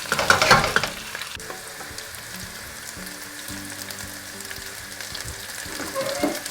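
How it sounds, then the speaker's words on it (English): Potatoes frying on high heat in a flat pan, a steady close sizzle with a louder burst of stirring at the start and again near the end. "I'm just going to kind of fry them until they're golden"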